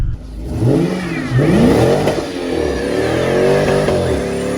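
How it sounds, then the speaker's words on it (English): A Dodge Charger R/T engine revs up loudly with a deep, throaty exhaust, rising and falling through several pulls before settling into a steady roar. "you're buying this car to have a loud exhaust"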